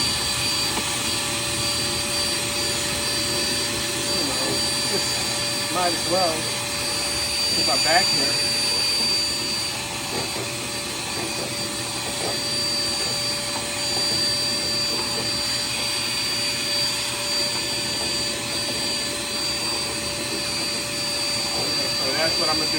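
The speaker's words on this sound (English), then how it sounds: "I'm gonna see if I can go ahead and vacuum some of this off" A vacuum cleaner cleaning dust from a GE Profile refrigerator runs steadily throughout at close range, a constant whine with a few brief shifts in pitch, while someone speaks briefly over it.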